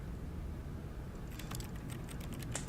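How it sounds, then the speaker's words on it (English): Keyboard typing from The Stanley Parable video game: a quiet run of quick, light key clicks that starts partway through and continues to the end over a steady low hum. "Why is it making typing noises?"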